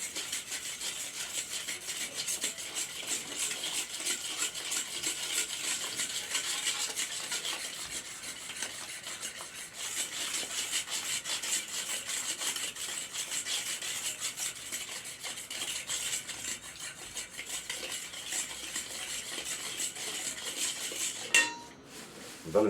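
A spoon scrapes and stirs continuously around a pot as ingredients for Homsi Eid qurs pastries are mixed with a cup of water until they dissolve, producing steady close rasping and clinking with no talk.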